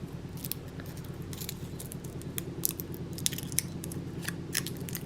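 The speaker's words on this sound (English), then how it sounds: "So let's unwrap this cheese first and kind of use that as a starting point." Crinkly handling of the wrapper on a miniature cheese package, a run of close, quick rustling and crackling bursts with a faint steady hum underneath.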